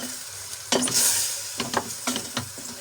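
Vegetables and chicken fry in a pan under a constant hiss, while a spoon stirs and scrapes them in several distinct bursts, close up and with nobody speaking.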